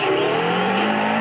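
A rear-wheel-drive Subaru Impreza STI drifting in CarX Drift Racing, with a loud, sustained tire squeal over a steady engine drone throughout.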